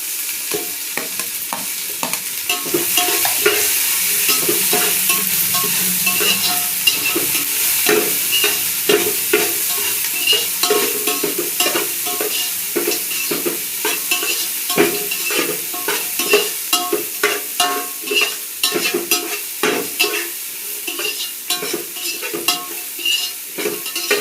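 Onions frying in a pan until brown for biryani, a steady sizzle with repeated scraping and stirring strokes of a utensil against the pan, close and loud.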